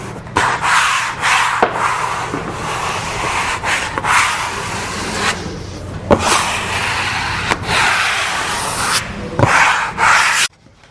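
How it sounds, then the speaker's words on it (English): A squeegee pulled straight down over freshly hung wallcovering gives a steady, close rubbing swish broken by several short strokes and taps, running nearly eleven seconds without talk. "Take a squeegee, pull directly down."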